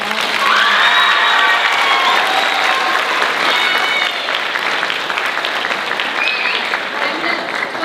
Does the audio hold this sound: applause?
yes